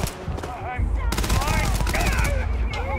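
Rapid gunfire from a weapon in the video game Starfield, a close burst of repeated shots over steady ambient game noise, with voices talking nearby.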